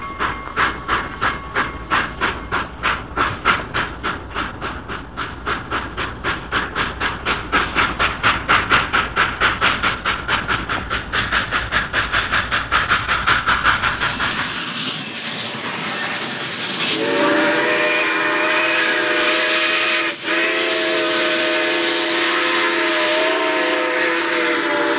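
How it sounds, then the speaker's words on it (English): Southern Pacific 2475 steam locomotive pulling out of San Jose on the SP Milpitas line, with heavy rhythmic exhaust chuffs that speed up steadily, then a long, loud, sustained steam whistle blast. "The train heads out of San Jose on the SP Milpitas line."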